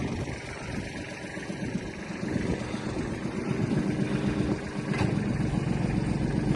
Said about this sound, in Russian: Работа фрезы